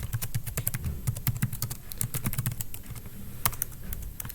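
Fingers type on a computer keyboard in quick, uneven bursts of crisp clicks and clacks, close and clear, with a brief pause near the end before a few more keystrokes.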